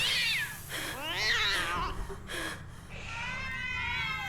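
Cats meow repeatedly in the horror video game Ju-On: The Grudge, a series of rising and falling cries close and fairly loud, with breathy gasps between them and a longer drawn-out meow near the end.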